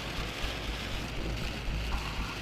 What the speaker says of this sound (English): This downpour on Utah's hard ground shows the beginning of a flash flood